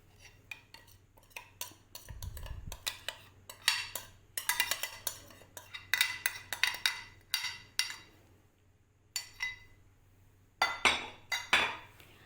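Chicken drumsticks being mixed by hand into a masala marinade in a metal bowl for tandoori tangdi kebab, with repeated light clinks and taps against the bowl coming in irregular bursts and short pauses, with no talking.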